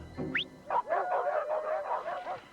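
Dogs bark and yelp in a car commercial for the Outback all-wheel-drive sport utility wagon: a high yip, then a run of quick, fairly close barks over a steady background.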